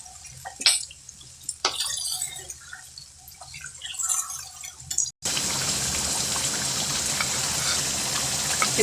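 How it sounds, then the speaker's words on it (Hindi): Ginger frying in a pan begins with scattered drips and faint crackles, then after about five seconds breaks into a loud, steady sizzle that continues to the end, close and without talk. "अदरक, इसको भूनते हैं अच्छी तरह।"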